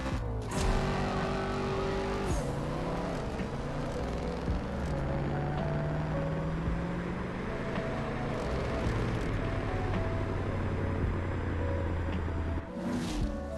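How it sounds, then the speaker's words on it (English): Revving car engine from the CSR2 racing game, loud and continuous, with shifting harmonic tones rising and dropping through gear changes, plus a brief tire-squeal-like burst near the start and a cut near the end. "Did you hear the crazy sounds the engine was making?"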